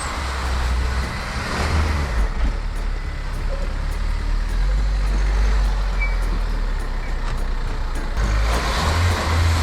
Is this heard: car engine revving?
yes